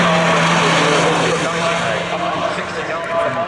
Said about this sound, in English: Still the Ferrari P4.